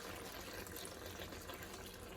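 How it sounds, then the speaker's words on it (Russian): Boiling water poured from a kettle over food in a pan, a steady close liquid rush with gurgling throughout. "Мы это заливаем водой горячей,"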